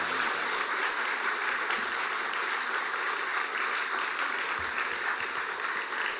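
A church congregation at a revival meeting claps steadily to welcome a frail missionary preacher to the pulpit, a dense, even wash of applause that fills the room throughout.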